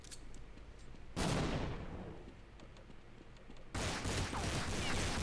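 Gunfire in Counter-Strike, two sudden loud bursts of shots, the first decaying into a lingering rumble and the second starting abruptly and holding loud to the end, with faint talk beneath.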